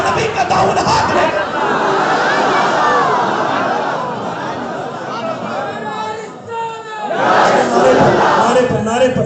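A large crowd in K R Nagar, Mysore, chants religious slogans loudly in unison, a sustained roar of many voices that dips briefly and then swells again.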